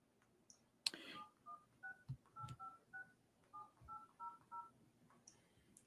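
A phone keypad dials the FBI: a sharp click, then a steady run of about a dozen short, clear dialing tones in uneven groups, close and alone.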